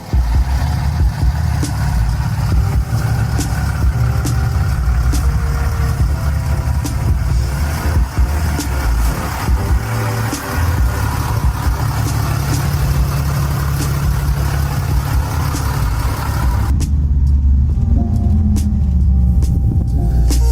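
A heavy Ram 3500 dually pickup truck engine idles with a steady low rumble and constant mechanical noise, close by, continuing without speech.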